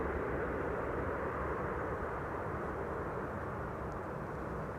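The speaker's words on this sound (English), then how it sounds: "another A320." Airbus A320 airliner arriving at Amsterdam Schiphol, a steady broadband jet roar held at an even, moderate level throughout, with no voices over it.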